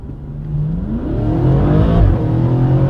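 Loud, close engine roar from a BMW M135 (F20) fitted with an S63 twin-turbo V8, rising steadily in pitch as it accelerates hard through the gears on a damp road, with a brief shift dip midway.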